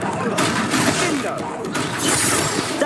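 Confringo fire spell blasting a troll in Hogwarts Legacy, a dense roar of crackling explosions and shattering debris throughout, loud and continuous, with battle chatter mixed in.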